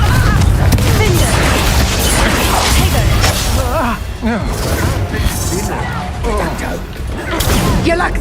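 Confringo fire spell blasts in Hogwarts Legacy, loud booms and crashing impacts amid continuous dense combat noise, with voices talking throughout.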